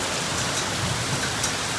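Heavy rain pours steadily in a dense, even hiss of drops striking surfaces, loud and close, with no voices.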